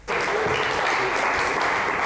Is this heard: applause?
yes